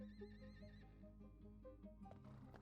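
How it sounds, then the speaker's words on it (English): A horse in the survival game SCUM neighs in a long, wavering whinny over the first second, followed by quieter snorts and shuffling with a low steady rumble of ambient background throughout. "That was a horsey."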